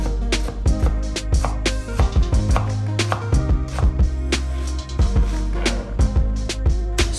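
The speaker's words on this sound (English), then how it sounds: "I'm going to start by chopping my onions into a medium dice" A knife chops onions rapidly on a cutting board, quick irregular taps close by with no talking.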